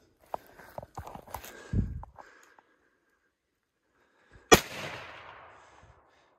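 A rifle fires at an elk during a hunt, one sharp loud crack followed by a decaying rumble, with scattered quieter clicks and knocks beforehand.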